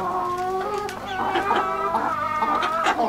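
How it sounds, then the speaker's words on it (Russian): Young roosters and chickens cluck and chatter together in a farmyard pen, a busy overlapping chorus of close, nasal calls with a few sharper cries, steady throughout. "Петушки начали прямо вырисовываться, прям все, уже видно. Видите, вот они. Вот петушок."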